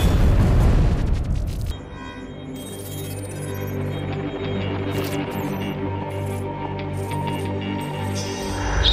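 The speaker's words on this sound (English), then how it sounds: "What appears to be an explosion of epic proportions." A nuclear explosion in a video game opens with a loud, deep blast that quickly drops into a long low rumble beneath swelling tonal sound effects.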